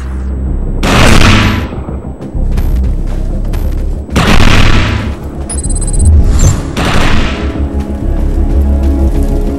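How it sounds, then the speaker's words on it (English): Heavy gunfire from the shooter video game Defiance on Xbox 360, loud booming bursts in three clusters with rumbling tails and sharp electronic tones in between, no voices. "Shoot the projection while overcharge is activated."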